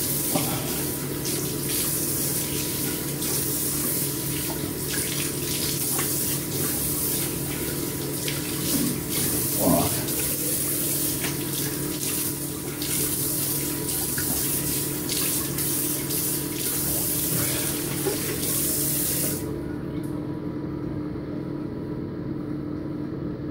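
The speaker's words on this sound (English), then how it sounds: "I'm gonna rinse off" A bathroom tap runs steadily for rinsing off after a shave, a close, continuous stream of water with small splashes that stops near the end, leaving quiet room tone.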